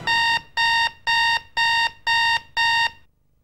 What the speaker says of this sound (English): when the alarm bell rings